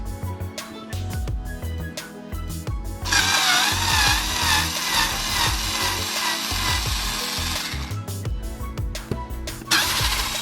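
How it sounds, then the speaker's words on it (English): Metal screws being turned out with an H4 Allen key on a Logitech G29/G920 steering wheel, a dense stretch of close scraping, rubbing and grinding tool noise that runs steadily for about ten seconds with no talking. "So the first thing you want to do is unscrew these 6 screws using a H4 Allen key."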